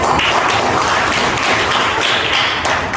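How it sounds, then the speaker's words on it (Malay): A classroom of students claps hands together during a teaching lesson, a loud, dense burst of close clapping that holds steady for the whole stretch with no talking. "tepuk tangan untuk bulan mulut"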